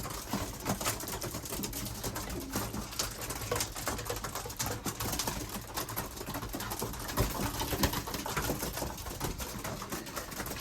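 Racing pigeons in a loft during race arrivals, a dense continuous flutter and soft cooing with scratchy patter throughout, close and steady with no clear voices.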